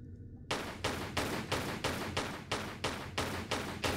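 Rapid video game gunfire from Tomb Raider IV: The Last Revelation on PC, with about eight evenly spaced loud shots in a steady rhythm after a brief quiet start.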